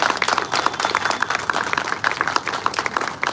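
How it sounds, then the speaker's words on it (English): An audience at a book launch gives a round of applause, many hands clapping together in a dense, steady patter that continues evenly throughout. "a round of applause to our founder chairman, Mr. K.K. Bajaj"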